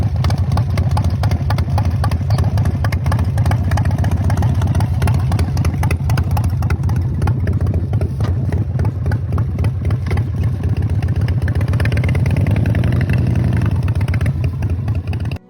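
A 1988 Harley-Davidson FXR, a customized classic built with genuine Harley parts, idles loud and close with a steady, lumpy engine rumble and light mechanical clatter, running continuously without any voices.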